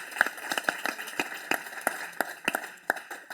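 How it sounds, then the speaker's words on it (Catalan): A small audience at a film festival round table gives sparse applause, with distinct individual claps landing at an irregular pace, fairly quiet and with no talk over them. "un aplaudiment per la dona més pintada"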